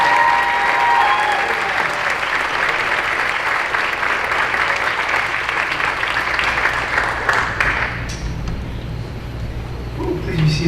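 Audience applause at an award ceremony, loud sustained clapping from a large crowd lasting about eight seconds before tapering off, with a voice speaking as it dies down.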